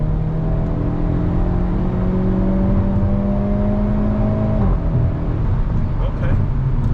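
A Hyundai Elantra N accelerates from highway cruising speed to pass, its engine note climbing loudly inside the cabin before a gear shift drops the pitch, with people talking over it.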